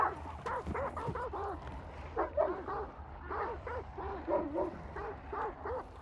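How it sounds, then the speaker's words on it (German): Several dogs barking in the game Hunt: Showdown, short yipping barks coming in bursts at moderate distance, with brief gaps between the volleys and no one speaking over them. "Warum bellen die Hunde da hinten noch so?"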